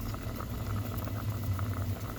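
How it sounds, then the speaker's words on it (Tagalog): Tilapia paksiw simmers in a pot, bubbling steadily up close, a continuous gurgling boil with no voices. "Kumulo-kulo na siya."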